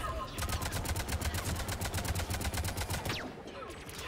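Rapid automatic gunfire in the sci-fi shooter Mass Effect 3, a steady fast burst of shots that runs for about three seconds before ending with a sweeping energy blast, loud and continuous.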